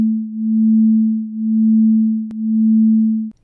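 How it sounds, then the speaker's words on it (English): Two steady pure tones at 220 and 221 Hz sound together and beat, swelling and fading about once a second. One brief click breaks the hum before it cuts off. "Say you have two tones, one is at 220 cycles per second and the other is at 221."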